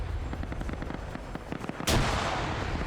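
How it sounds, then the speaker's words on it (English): Firefight in a shooter video game with a rapid burst of gunfire followed by a sudden loud grenade blast near the end that leaves a lingering rumble, with no talk. "he's throwing grenades now"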